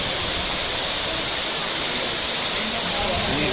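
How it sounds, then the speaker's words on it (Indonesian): Pusat Cepung (Sukat Cepung) waterfall tourist site: steady, broadband rushing of falling water that fills the whole clip at constant loudness, with no pauses. "Oke, sini sudah kita lihat sama-sama air terjun pusat Cepung."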